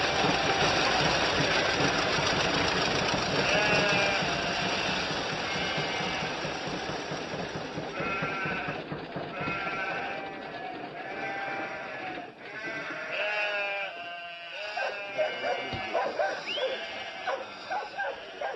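Sheep bleat repeatedly across a rural New Zealand farm, with dogs barking intermittently and a low engine rumble underneath; the animals sound close and fairly loud, with the bleats growing denser toward the end.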